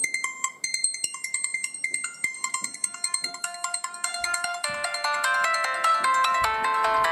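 A bright electronic ringtone melody plays on a Motorola Razr V8 luxury edition phone, a quick chiming tune of rapid repeated notes that grows fuller and more sustained toward the end, close and clear with no talk.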